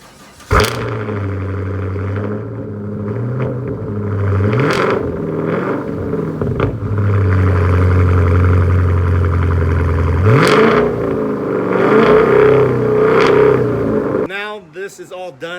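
A Chevrolet Camaro SS idles with a deep, close, steady rumble, then revs and changes pitch as it pulls out into a yard, ending in brief clatter.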